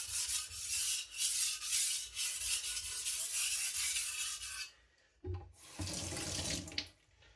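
A gyuto chef's knife being sharpened on a whetstone during a full sharpening, giving a steady wet scraping rasp with water splashing, loud and continuous, pausing briefly before resuming.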